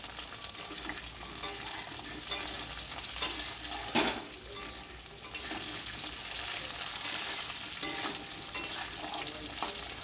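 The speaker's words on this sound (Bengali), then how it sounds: "আলু দেওয়ার পর একটু নাড়াচাড়া করে নিচ্ছি" Cut potatoes fry in hot oil in a pan in a Bengali village kitchen while being stirred, a steady close sizzle broken by scraping spatula strokes, with one louder clatter partway through.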